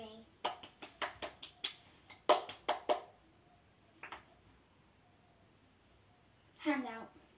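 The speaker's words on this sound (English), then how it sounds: "Clap for Henry." A classroom of children clapping for Henry at a Victorian-style school: a quick run of about ten sharp claps, moderately near, then a brief pause, a couple more scattered claps and a voice at the end.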